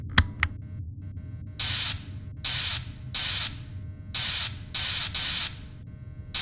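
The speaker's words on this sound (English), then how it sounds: "So go ahead and start spraying the suit" Spray bursts from a can coating a mascot suit in the Fredbear and Friends: Left to Rot video game, six hissing blasts of about half a second each, loud and close with brief gaps between, following two sharp clicks at the start.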